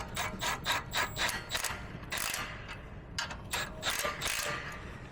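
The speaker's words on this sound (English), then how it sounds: "This is a pretty cool right angle impact." Right angle impact wrench working on Sprinter van brakes, a close, rapid ratcheting rattle in repeated bursts with brief pauses between them.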